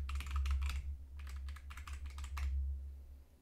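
Keyboard typing of an apt install adb command for a Linux setup, quick close clicking keystrokes in two runs separated by a short pause, over a low steady hum, then quiet.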